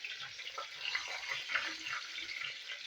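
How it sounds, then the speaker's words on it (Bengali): Bay leaves sizzle in hot oil as a tempering step for doi potol, a soft, continuous crackling fry that stays fairly faint, with no talking. "ফোড়ন দিচ্ছি তেজপাতা"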